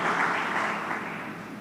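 A church congregation applauds, a brief, dense wash of steady clapping from many hands at a moderate distance, with no pauses.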